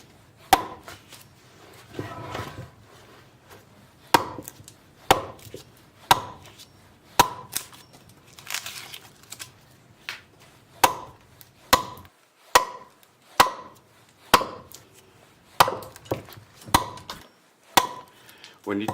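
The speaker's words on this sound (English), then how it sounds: "When you chop with an adze," An adze with an ash handle chopping wood out of the inside of a bowl, sharp close thuds landing roughly every second in a loose repeated rhythm, with soft scraping between strikes.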